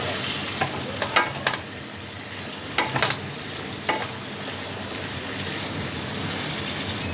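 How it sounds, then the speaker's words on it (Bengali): Pointed gourd sautéing with spices in a pan gives a steady soft sizzle, broken now and then by a few sharp scrapes and clinks of stirring, with no one speaking. "মশলার সাথে পটলগুলোকে আরো খানিকক্ষণ কষিয়ে নিতে হবে।"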